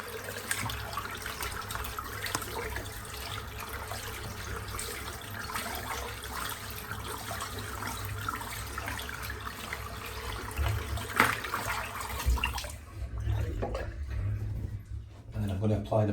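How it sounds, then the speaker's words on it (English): Running water rinsing shaving soap off, a steady close tap stream with shifting splashes and trickles throughout, broken up near the end as the flow changes; someone speaks softly over it. "Right, I just rinse the soap out."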